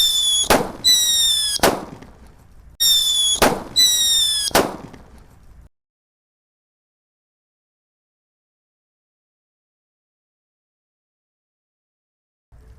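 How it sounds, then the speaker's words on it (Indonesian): Two red paper-wrapped King Thunder firecrackers go off in two closely spaced pairs of loud sharp bangs, each followed by a whistling shriek, then a long silence. "selanjutnya kita nyalakan 2 sekaligus mercon buntelan kertas Weselling King Thunder yang warna merah ya."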